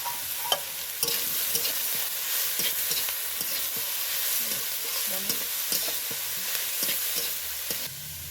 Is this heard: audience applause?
no